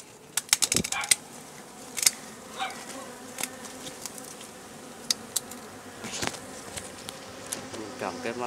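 Dwarf honey bees buzz around a wild nest as it is handled outdoors, a steady close hum broken by sharp clicks and knocks of handling.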